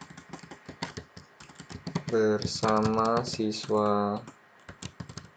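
Keys clack in quick, uneven bursts on a computer keyboard while a person talks steadily over the top, the tapping staying close and fairly loud between and beneath the speech.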